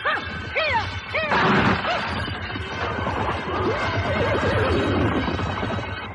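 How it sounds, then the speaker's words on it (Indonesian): A horse-drawn carriage in pursuit, with a horse neighing loudly several times in rising whinnies over a busy rumbling background of hooves and clatter, up close and fairly loud throughout. "kereta kuda yang dikendalikan oleh Mak Rompang mengejar dari belakang"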